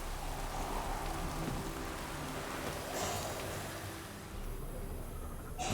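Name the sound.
rain in the video game The Witcher 3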